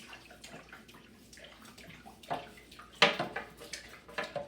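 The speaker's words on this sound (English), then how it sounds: "You wet it and then scrub the sides down." Wet brush scrubbing film off the sides of a tank, a series of soft splashy swishes and strokes, sharpest and loudest near the end, with water sloshing between strokes.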